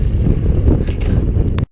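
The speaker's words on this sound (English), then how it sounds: "it's a little windy here" Wind roaring over a microphone during a bike ride on a rough coastal road at Point Reyes National Seashore, a loud continuous low rumble with gusting pulses that cuts off abruptly near the end.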